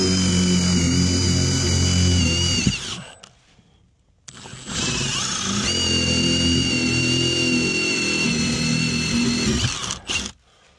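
A power drill spins a 4-inch hole saw through the wall for an ERV installation, two loud, close bursts of whining, grinding cutting separated by a short pause, then stopping abruptly.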